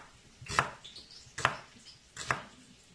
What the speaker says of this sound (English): Now we have onion and garlic. See, very basic, guys. So let's cut it first.